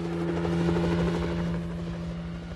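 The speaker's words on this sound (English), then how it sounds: "I'm impressed you've got your own whirlybird" A helicopter flies close by with a loud, continuous rotor throb and a steady engine hum, holding strong throughout before easing slightly near the end, with no voices.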